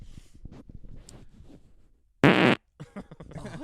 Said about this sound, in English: if you got to fart, you want it, you can fart in the microphone.